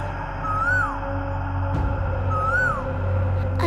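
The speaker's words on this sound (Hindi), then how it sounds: "कोयल आकर कूकने लगी।" An Asian koel calls from a window ledge, giving two identical rising-then-falling whistled notes about two seconds apart. The calls are clear and prominent over a steady low hum.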